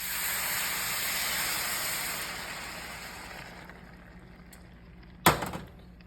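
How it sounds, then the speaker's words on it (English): A cup of milk poured into a chicken dish makes a steady hissing rush that fades over a few seconds, then a single sharp knock near the end. "Then we're gonna add in a cup of milk."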